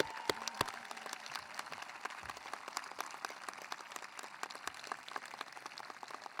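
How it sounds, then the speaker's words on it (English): Applause from the audience at an eighth-grade middle school graduation, a faint, distant but sustained clatter of many hands with scattered sharper claps, continuing for several seconds. "So let's give them a round of applause,"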